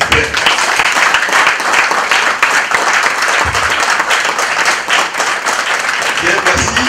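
A crowd at a ceremony claps for a book director. The applause is loud and continuous, with a few rhythmic surges and a faint voice mixed underneath.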